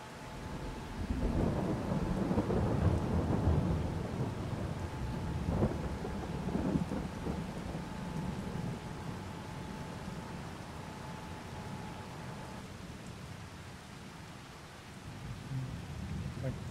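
Heavy rain falls steadily in Farming Simulator 22 while deep rolling thunder rumbles early on and fades into a softer, continuous downpour hiss.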